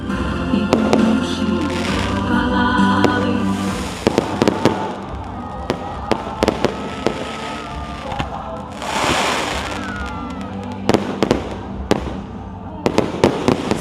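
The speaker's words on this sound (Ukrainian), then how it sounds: "Завершилося дійство салютом." Fireworks salute closing an evening outdoor concert in Ukraine, with repeated loud bangs and crackling bursts over a steady background of crowd noise and sloshing.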